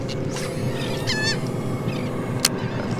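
Seabirds calling excitedly over a school of ladyfish off South Padre Island, Texas: a few short squawks and honks scattered through steady background wash from wind and water, with no speech.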